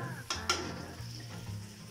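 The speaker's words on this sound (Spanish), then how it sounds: "vamos a mezclar para que también ya se comience a cocinar" Garlic stirred and frying in a pan for a Peruvian tostado with chicharrón: a steady sizzle with a couple of sharp utensil scrapes near the start, close up and without talk.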